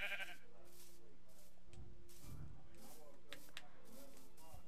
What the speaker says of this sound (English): Alright, another sheep.